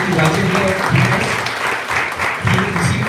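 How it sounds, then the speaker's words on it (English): Audience applause honoring a police commissioner at a youth innovation event, a sustained wash of clapping over about three seconds, with voices and cheering mixed in. "A big round of applause, please, for this."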